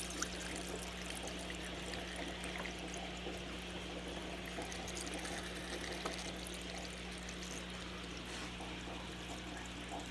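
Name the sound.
aquarium water draining through a siphon hose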